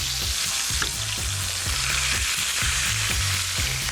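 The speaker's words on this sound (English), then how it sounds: "Take your tongs and sort of lift the steak on its back and really melt all that fat down" Steaks fry in a hot pan while being tipped onto their fatty edges to render the fat down, a continuous close sizzle broken by a regular run of low tapping knocks as the meat and pan are handled.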